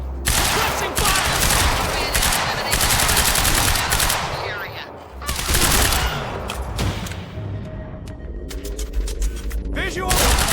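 Dense automatic gunfire rattles through a Quantum Break firefight in an industrial area, loud, near and nearly continuous in overlapping bursts, with shouted voices mixed in.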